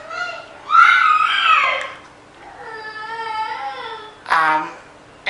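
A young boy screams loudly in bursts, with a high piercing wail and a second sharp shriek near the end, mixed with some whimpering in a quiet indoor room.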